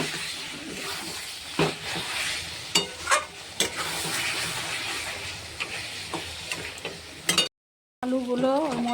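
Mutton masala fries in hot oil as a spoon stirs it, a steady sizzle with several sharp scraping clanks of the spoon against the pan; a voice briefly speaks near the end.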